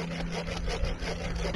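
A hand saw cuts through coconut palm wood in a home garden, quick rhythmic back-and-forth rasping strokes heard close and fairly quiet, with no talking.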